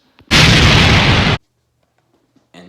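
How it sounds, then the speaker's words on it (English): A loud, close explosion sound effect bursts out as a single roaring blast lasting about a second, then cuts off abruptly into near silence. "I at least escaped the explosion."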